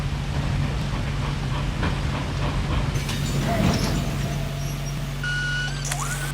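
Toy train in a Nancy Drew video game puzzle, a steady mechanical rumble and hum with a sustained tone, joined near the end by rising electronic tones and a short chime, continuous and fairly loud.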